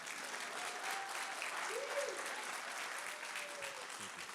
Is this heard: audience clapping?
yes